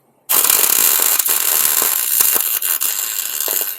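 Tack welding on thick metal on a 1956 International gives a loud, close, continuous crackling hiss for several seconds, with brief dips in the buzz and no voices.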